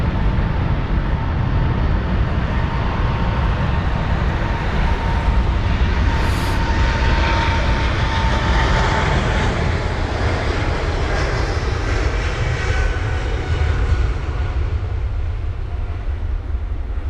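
Airliner engines roar continuously at London Heathrow as an American Airlines jet departs, a loud, steady broadband rumble and hiss holding across the whole stretch with no talk.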